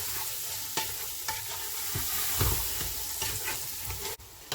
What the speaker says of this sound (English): Now I'm going to add some carrots and some fresh beans. Give them a stir.